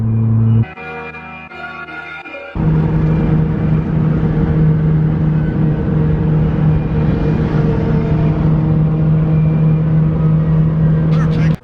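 A Honda car engine runs loud and close with a strong steady low hum, briefly dropping to a lighter idle before surging back and holding, as people talk nearby in a tuning garage.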